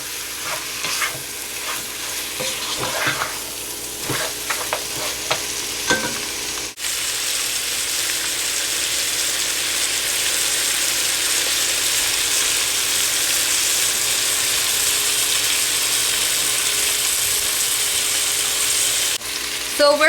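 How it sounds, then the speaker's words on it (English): Continuous loud hissing sizzle of oil frying as goat meat is sautéed with masala spices, with scraping stirring clicks early on, steady and close, no one speaking. "You can hear, you know, the oil sizzling."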